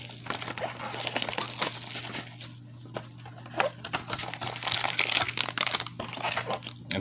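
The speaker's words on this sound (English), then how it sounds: "today, I'm going to rip this Tier 1 box open and see what we get" Topps Tier One baseball card box, 2021 series, torn and crinkled open at close range: steady dense crinkling and ripping of foil and cardboard with sharp tearing bursts, constant low hum underneath.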